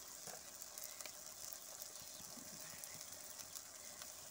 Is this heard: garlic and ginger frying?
yes